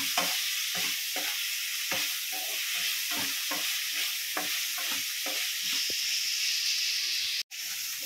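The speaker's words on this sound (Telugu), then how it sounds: "దీంట్లో కొద్దిగా సోయా సాస్ యాడ్ చేద్దాం. సో దీన్ని బాగా కలుపుకుందాం." Chicken pieces stir-fried with soy sauce hiss loudly in a hot pan while repeated rhythmic stirring strokes scrape through, and the sound cuts out for a moment near the end.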